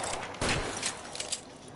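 Gunfire in the L.A. Noire video game: a burst of shots around the middle, loud against a steady background, with a few lighter cracks following.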